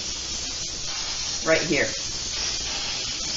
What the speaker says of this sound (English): I'm going to spray this Corningware dish with some non-stick cooking spray.